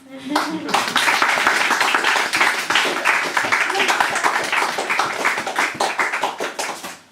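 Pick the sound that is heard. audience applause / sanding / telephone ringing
audience applause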